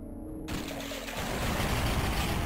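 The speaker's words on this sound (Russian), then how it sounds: "Классные взрывы." Explosions rumble in Duke Nukem 3D, Episode 2 Lunar Apocalypse, as a sudden dense roar kicks in after half a second and keeps building into a sustained, loud, crackling blast that carries on to the end.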